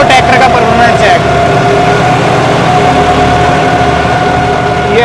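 A John Deere 5210 tractor in four-wheel drive labors at about 1600 rpm while climbing out of a pit, its steady diesel drone close and loud, with someone talking over it.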